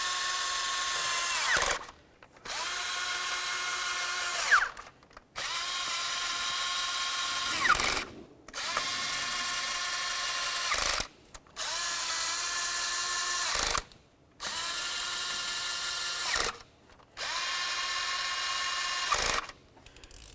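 Power tool runs in repeated bursts of about two seconds each, separated by short pauses, while snugging up bolts during an ignition coil boot replacement on a 2006-2012 Ford Fusion 3.0L V6 engine. The whine is steady and close, with no talking.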